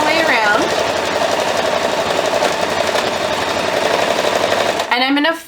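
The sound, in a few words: sewing machine stitching around oven mitt edge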